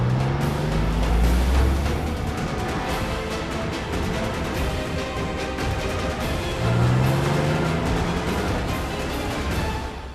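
A car engine roars steadily while being driven fast during a chase, close and loud for the full stretch, with a couple of rising gear sweeps and no talk over it.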